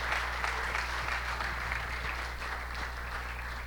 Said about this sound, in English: Huge round of applause for a wonderful talk and Q&A from Dr. Niti.